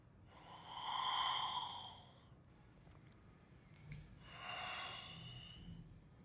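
Slow, deep yoga breaths during a power yoga side-bend practice: one long airy inhale, a pause, then a second long breath, close and soft with no talking.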